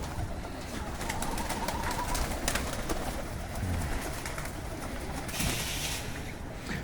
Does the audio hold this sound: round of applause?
no